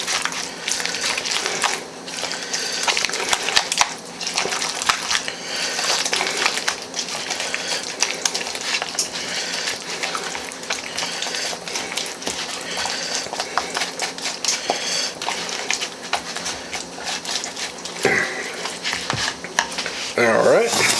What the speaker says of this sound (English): we'll give this a good stir